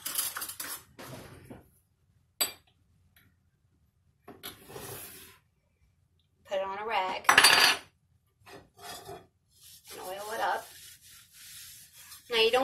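Baking grease being rubbed onto a restored, once-rusty cast iron piece, heard as sparse, soft scraping and rubbing strokes with quiet gaps between them and some talking.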